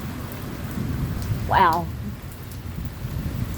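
Steady heavy rain roars across a Midwest thunderstorm with hail, a continuous broadband wash with low rumbling thunder underneath throughout; a single short exclamation breaks in near the middle.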